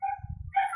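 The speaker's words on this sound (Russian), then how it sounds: "У Вали под забором коробка со щенками" Puppies in a box set under a fence give whimpering, yipping little barks, one after another at close range, with a sharp higher cry near the end and no talking over them.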